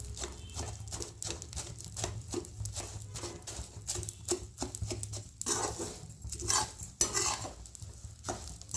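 Edible gum (gond) and fenugreek fry in ghee, sizzling softly under a steady run of close stirring and pressing strokes against the pan, with no one speaking.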